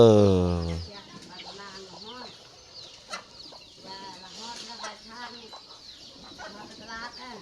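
Village chickens cluck and chatter near and far in a rural settlement, a steady scatter of short calls over background noise, after a brief low tonal sound at the start.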